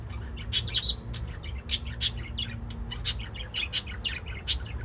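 Small aviary birds (diamond doves) chirping in short, bright, irregular tweets, several quick calls close by over a low background hum, no talk.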